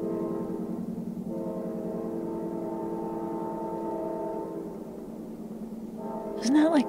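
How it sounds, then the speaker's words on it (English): A long, droning train horn holds for several seconds, pauses briefly, then fades, followed by a short burst of voice at the end. "it sounds like a choo-choo train"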